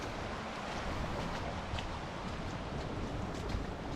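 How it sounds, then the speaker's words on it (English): Outdoors at night in wet, windy weather on a hiking trail, a steady broadband wash of flowing water mixes with wind buffeting and rain, continuous and fairly close, with no voices. "You can hear the water flowing just here."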